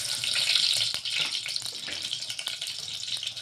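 Chopped onion hits hot oil already popping with mustard seeds in a pan of brinjal curry, giving a steady hissing sizzle that holds throughout with no talk over it.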